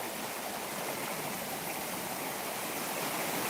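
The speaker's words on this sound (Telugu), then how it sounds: "మంచి చూడండి వాటర్ అయితే ఫుల్గా వస్తుంది" Water rushes strongly and continuously through a farm field channel after a storm, a dense, steady roar of flowing current close by.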